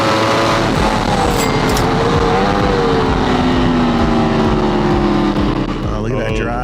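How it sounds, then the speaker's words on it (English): A Yamaha R1 racing motorcycle pulling hard out of a corner on a track, a loud, continuous engine howl whose pitch climbs steadily as it accelerates, with other race bikes close by. "I'm able to get great drive on the back straightaway and pass Austin for 2nd position."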